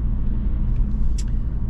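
A BMW Alpina B4 S BiTurbo cabriolet cruises along a road, giving a steady low engine and tyre rumble heard from inside the car without any talking.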